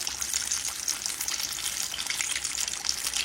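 Hand pies fry in hot grease with a dense, continuous crackling sizzle and bubbling, close and steady throughout, with no voices.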